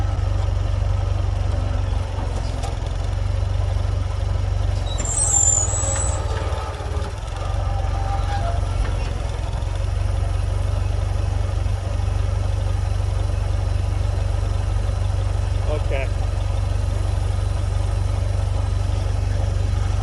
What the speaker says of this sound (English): Running a lot smoother now that I fixed the choke.